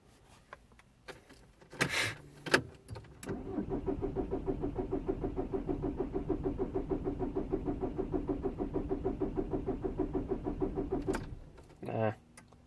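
A Volkswagen Golf 1.9 TDI diesel engine cranks steadily for several seconds with a rapid rhythmic chugging but never catches, preceded and followed by brief clicks and clunks.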